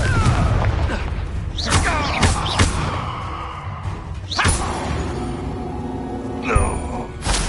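Confringo spell blasts in the Hogwarts video game, several loud whooshing bursts and booming impacts in a busy, dense battle mix.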